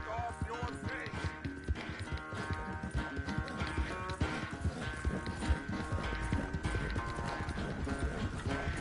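Horse hooves clip-clopping at a quick, steady pace in Red Dead Redemption 2, close and continuous with a brief whinny, over a low, faint music bed.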